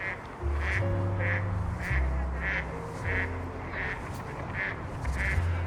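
Mallard ducks quack in a steady series of about ten calls, clear and fairly close, on a walk outdoors over low rumbling background noise.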